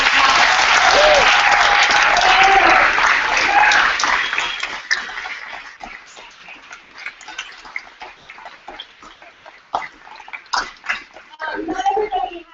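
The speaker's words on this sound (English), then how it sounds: "Let's give everyone an amazing round of applause." Loud, dense applause from an audience at a Startup Weekend Education event in Oakland, cheering the competing teams, which fades after about five seconds into scattered claps under voices and crowd murmur.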